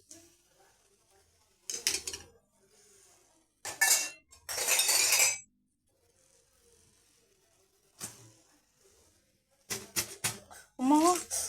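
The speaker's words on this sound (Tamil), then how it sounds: "இப்படி பாருங்கள், டம்ளர் வச்சு கொத்தலாம்ல" A steel tumbler is used in place of a spatula to chop kothu meat, giving bursts of sharp metallic clinks and clattering in short clusters with quiet gaps between them, while people talk nearby.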